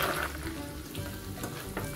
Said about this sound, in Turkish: cevizlerimizi birkaç dakika tereyağında bu şekilde kavuralım